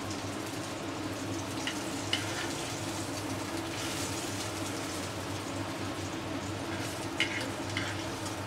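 Paneer pieces frying in oil in a pan, giving a steady soft sizzle with faint crackles and occasional stirring clicks under a constant low kitchen hum, with no talking.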